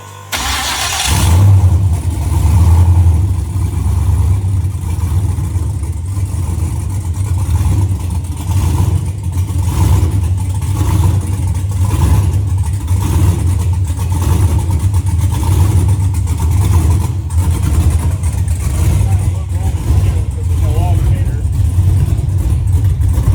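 An LS-swapped OBS Chevy truck with a V8 that runs lean and stumbles on throttle, catching and then running steadily, close and loud for over twenty seconds, with someone talking now and then.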